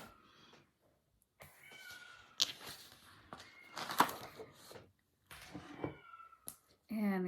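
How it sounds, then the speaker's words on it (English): A daughter's pet cat meows a few times in a quiet room, fairly faint and intermittent, with a louder, drawn-out meow at the end. Someone talks nearby between the cries. "if you can hear my daughter's cat"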